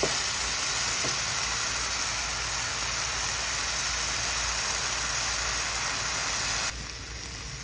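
Egg frying in a pan with sautéed tomatoes and onion leaves, giving a loud, steady sizzle that runs throughout and drops slightly toward the end.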